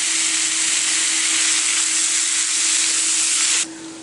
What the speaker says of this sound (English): Now we're just going to let that cook, let that bacon fat render off, and cook that bacon.